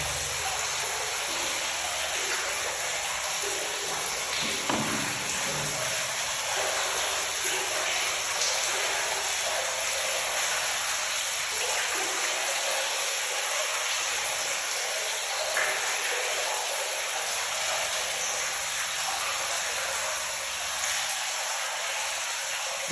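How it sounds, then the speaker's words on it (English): Rainwater from a roof running steadily into a cistern after a night of heavy rain, a continuous broad rushing and trickling wash that holds at an even level throughout, with no voices. "That is the cistern that you're hearing the noise from."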